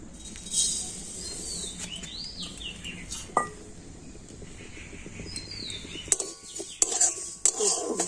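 Sesame seeds are tipped into a kadai on a home stove for dry roasting before making peanut chikki. Light rattles and scattered metallic clinks are heard, with faint bird chirps in the background.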